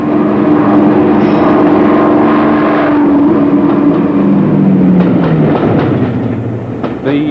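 A Deltic twin-engine diesel-electric locomotive drones loudly close by, a sustained engine hum shifting in pitch over rumbling wheels, with rhythmic rail clicks emerging toward the end.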